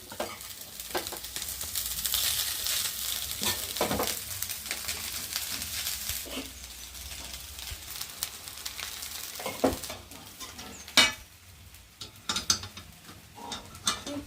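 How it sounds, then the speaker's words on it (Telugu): Egg fried rice is tossed and mixed in a hot pan with a loud continuous sizzle, then spoon scrapes and clanks against the metal as the stirring goes on, with no voices. "అన్నం మొత్తం అయితే అలా వేసుకొని కలుపుకున్నాం"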